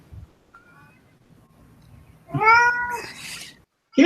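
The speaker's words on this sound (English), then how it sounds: "Kitten." A kitten meows once clearly and close, a rising-falling cry after a quiet stretch with faint background noise, followed by the start of another meow.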